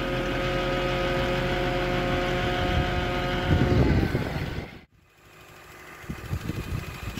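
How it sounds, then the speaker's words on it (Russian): A 2002 Toyota Corolla engine idles close by with a steady, even hum, then shifts briefly and dips before settling back into a low rumble. "Мотор вот так работает."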